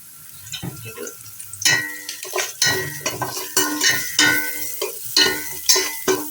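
Dried red chillies fry in a little oil while a utensil clatters and scrapes against the pan in quick, rhythmic strokes, with a light sizzle underneath.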